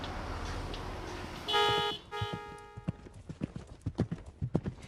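Horse hooves clip-clopping at an even walking pace on a hard surface, fairly close, preceded by a short burst of a harsh buzzing tone.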